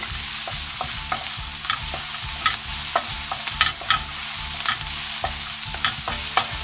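Vegetables sautéing in a pan for a Hakka chilli gobhi, with a steady close sizzle and repeated scraping stirs of a utensil against the pan, alone with no talk.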